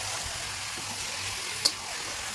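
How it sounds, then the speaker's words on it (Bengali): Chicken pieces sizzling and frying in a spiced masala in a home kitchen, a steady soft hiss with a single sharp clink of the stirring spoon partway through. "চিকেনটা এবার ওর মশলার মধ্যে অ্যাড করা হচ্ছে তারপরে একটু ভালো করে কষিয়ে নিয়ে"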